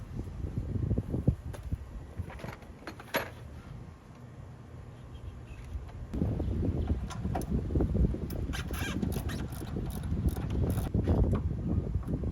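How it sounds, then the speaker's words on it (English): A ratchet loosening the lower alternator bolt on a car, heard as repeated close metallic clicking bursts under an engine bay, with a rougher stretch of busier mechanical noise in the second half; no one speaks. "there's another bolt all the way at the bottom that I have to loosen so the alternator can move"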